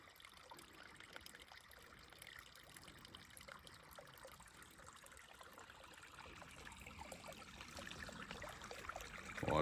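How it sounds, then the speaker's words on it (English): A mountain lake drains into a small stream, giving a faint, continuous trickle and gurgle of running water, steady throughout and swelling slightly louder near the end. "this is where the lake turns into a stream, creek, river,"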